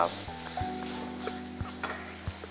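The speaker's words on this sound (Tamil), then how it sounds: "லேசாக வதக்கிக்கோங்க" Ingredients for coriander rice being lightly sautéed in a pan, a soft sizzle broken by a few spoon scrapes and stirs over a low steady hum; no talking.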